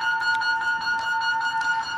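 A faint electronic tone sequence of steady pitched beeps with rhythmic pulses, a coded radio message carrying a missile unlock code, brief and alone.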